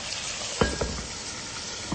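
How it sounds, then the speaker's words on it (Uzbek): Cutlets laid over potatoes steaming in a covered pan with half a glass of water, a soft continuous hiss and simmer with a couple of faint clinks of the pan partway through. "Endi yarim stakancha suv solib, 20 minutga kotletlarimizni dimlab qo'yamiz."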